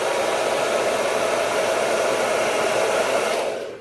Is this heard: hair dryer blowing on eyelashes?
yes